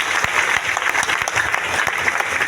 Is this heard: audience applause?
yes